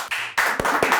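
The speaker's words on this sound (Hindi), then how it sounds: "Ladies and gentlemen, जोरदार तालियां हो जाए for Prachi Hada" Applause from an audience greeting actress Prachi Hada, a short burst of clapping that breaks off and resumes, with a few sharper claps standing out near the end.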